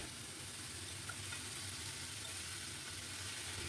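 Chopped snake gourd and onion frying in oil, making a soft, even sizzle that stays faint and constant for a few seconds, with no voices.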